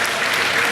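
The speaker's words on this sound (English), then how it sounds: "A round of applause for all the agencies." A brief burst of loud, dense applause from an event audience, continuous clapping from many hands close by.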